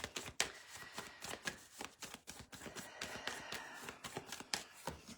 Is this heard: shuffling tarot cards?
yes